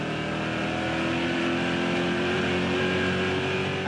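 NASCAR Euro race cars at Brands Hatch Indy circuit, steady loud engine roar with harmonic whine from passing cars, continuous and dense throughout, no voices.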